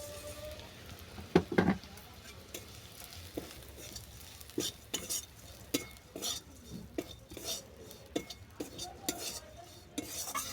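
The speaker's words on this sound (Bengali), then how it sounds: "নামিয়ে নিয়ে এই ঘিয়ের মধ্যে দিয়েছি ওটস" Oats frying in ghee in a pan while being stirred, a soft steady sizzle broken by repeated scraping and clinking strokes of the utensil against the pan, close and moderately loud.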